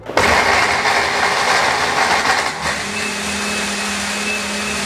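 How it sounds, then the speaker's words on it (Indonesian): A kitchen blender purees a spice paste with oil for ketupat sayur, starting abruptly into a loud, steady whirring roar that dips slightly as the contents settle, then keeps running. "Dan kita akan blender haluskan."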